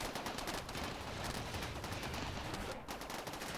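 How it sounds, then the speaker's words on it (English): Cannons firing in the video game Rimworld, heard as a dense, continuous rattle of rapid shots that carries on steadily at moderate loudness throughout, with no talk over it. "Our cannons will start firing in a second."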